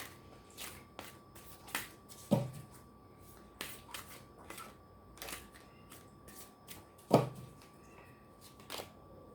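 Tarot cards drawn and shuffled from a deck in a quiet room: a string of soft papery flicks and taps, with two sharper slaps standing out, and no one talking.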